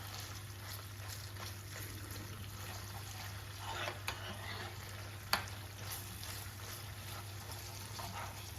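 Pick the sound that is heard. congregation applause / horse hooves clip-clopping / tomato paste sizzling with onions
tomato paste sizzling with onions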